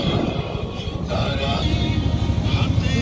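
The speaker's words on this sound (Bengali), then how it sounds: "এমনিতে ইঞ্জিনের শব্দ আছে, তারপরে আবার বক্সের শব্দ" A boat engine runs steadily on a river trip at Sariakandi, a loud continuous drone with rhythmic low throbbing that fills the whole span, with music from a loudspeaker and voices mixed faintly over it.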